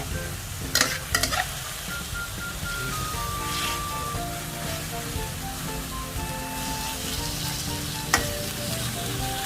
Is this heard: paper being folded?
no